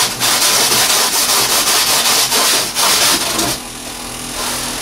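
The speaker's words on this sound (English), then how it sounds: "you can just kind of plane it down a little bit to get it to match" Foam board panel edges being planed down by hand, a steady close run of dry, rasping scrapes in quick repeated strokes that stop near the end.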